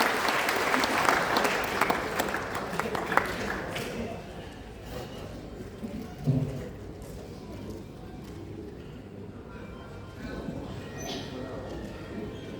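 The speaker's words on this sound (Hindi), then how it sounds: "एक बार दोनों हाथ उठा करके जोरदार तालियों से स्वागत कीजिए" An audience at a kavi sammelan comedy poetry evening in Jamshedpur welcomes a poet with loud sustained applause that gradually fades to scattered claps, with voices heard beneath.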